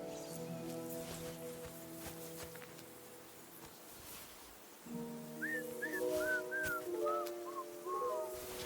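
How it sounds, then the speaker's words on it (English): A character whistles a short tune while travelling in the video game Kingdom Come Deliverance II, a faint melody of several notes over quiet music and soft outdoor ambience. "Your whistling is getting on my fucking nerves the whole way."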